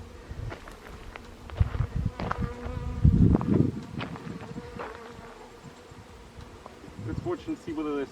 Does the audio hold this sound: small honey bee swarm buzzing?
yes